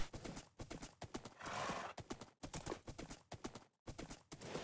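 Close, rhythmic hoofbeats of a Minecraft horse clip-clop in quick bursts, with a brief rushing swell midway and a neigh-like tone mixed in. No talk is heard.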